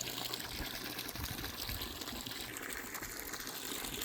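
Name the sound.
water running from a non-potable tap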